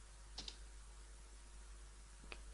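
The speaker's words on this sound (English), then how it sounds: "So I'm typing" A few soft keystrokes clicking on a computer keyboard, faint and sparse over a steady low electrical hum, with no talking.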